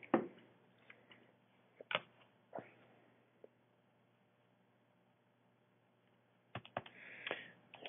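Keys pressed on a calculator keypad give faint, sparse plastic clicks, a few scattered taps at first, a long quiet gap, then a short cluster of presses near the end in a quiet room.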